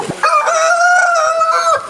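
A rooster at a farm where fowl are bred for a Kambala team owner's household crows loudly and close by, one long sustained call with a few clucks before it.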